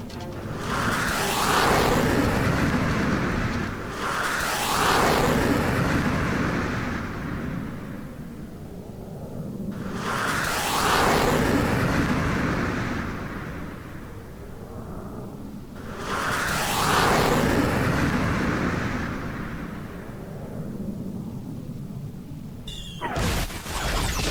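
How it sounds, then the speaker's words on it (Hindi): Indian Air Force fighter jets fly over the Ladakh valleys in repeated loud roaring passes, four swelling sweeps each building and fading over several seconds, with no talk. "लद्दाख की शांत घाटियों पर हिंदुस्तान के लड़ाकू विमानों का शोर।"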